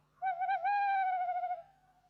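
An owl gives one long, clear, wavering hoot lasting over a second, close and prominent against a quiet background, with no talk.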